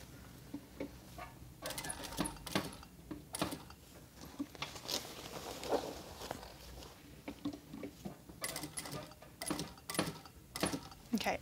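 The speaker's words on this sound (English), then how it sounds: "we'll go to the sewing machine and do a little cross box stitch" A sewing machine sews a cross box stitch on an apron in short bursts of rapid mechanical stitching, stopping and starting, with quiet handling sounds between runs.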